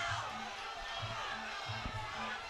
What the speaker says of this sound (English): The crowd is on fire right now.